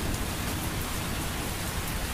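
Steady heavy rain pours down in a dense, unbroken hiss with no pauses and no voices, loud and close throughout.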